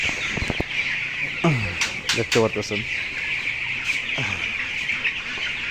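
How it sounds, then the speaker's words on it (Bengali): A shed of about 1200 broiler chickens, 22 days old, clucking and cheeping close by in repeated bursts over a constant high chirping din, with someone briefly speaking over them. "এখানে 1200 ব্রয়লার মুরগি আছে।"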